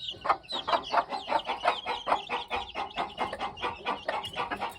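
A Hoy Muff gamefowl rooster of North British type clucks in a steady run of close, rhythmic calls lasting several seconds, with no talk over it.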